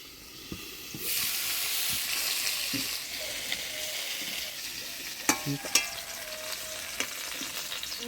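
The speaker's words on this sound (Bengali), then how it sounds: "ঢাকা দিয়ে দিয়ে আলু পটলটা ভাজে নিলাম" Potato and pointed gourd fry in a pan, starting with a sudden loud sizzle that holds steady and close, broken later by a few sharp clinks of a utensil against the pan.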